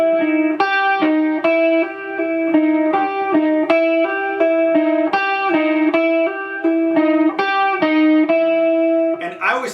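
A slow, repeating electric guitar blues riff with distorted, effects-laden tone, bending between notes in a steady stuttering rhythm, played alone and loud.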